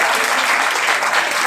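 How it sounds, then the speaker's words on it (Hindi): Dense, loud applause from the audience at a district-level lecture series event, a continuous close roar of many hands clapping with no break. "उनका आपसे निवेदन है जोरदार तालियों के साथ"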